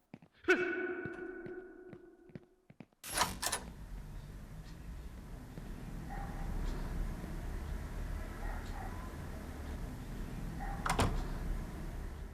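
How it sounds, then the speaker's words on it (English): The character Aaron gasps in fear in a video game: a short breathy voiced gasp at the start, then a sharp clunk and a low steady ambient hum with scattered faint clicks. "Suddenly, Aaron can be heard gasping, noticeably afraid."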